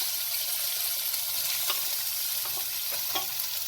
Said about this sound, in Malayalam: ഇത് നന്നായിട്ടൊന്ന് വഴറ്റി കൊടുക്കാം.